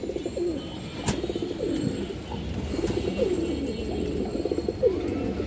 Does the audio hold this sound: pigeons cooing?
yes